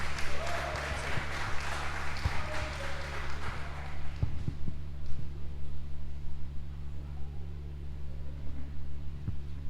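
A church congregation applauds during an evening worship service, a steady dense wash of clapping that thins out after a few seconds, heard alone without talk.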